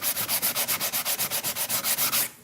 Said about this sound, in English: It's still a little bit more sanding on it.